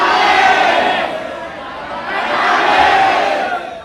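A roomful of young voices shouting and yelling together, loud and continuous, swelling in two waves.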